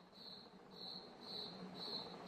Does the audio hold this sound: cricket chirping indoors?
yes